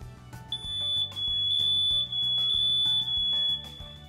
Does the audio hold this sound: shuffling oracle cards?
no